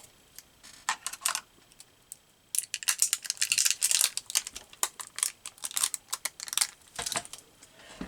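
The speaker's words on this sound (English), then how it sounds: "I guess I'll try my scissors because I don't see my knife." Scissors cutting open a sealed craft-supply package, a burst of sharp snips and crinkly plastic tearing close by after a quieter stretch of light tapping and rustling, with no talking.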